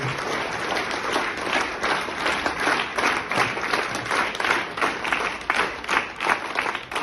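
A hall audience greets an alumna at a college ceremony with loud, continuous applause, dense rapid clapping sustained evenly throughout.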